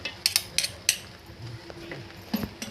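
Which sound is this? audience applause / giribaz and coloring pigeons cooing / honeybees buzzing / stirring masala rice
stirring masala rice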